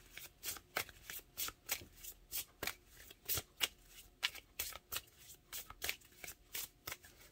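Tarot cards are shuffled by hand for a reading, a rapid series of crisp riffling flicks in an uneven rhythm, close and fairly quiet with no voices.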